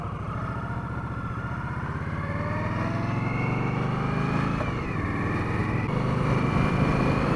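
A 2018 Indian Scout Ghost motorcycle cruises on a Saturday morning, its engine droning steadily and evenly throughout, close and moderately loud, with no voices.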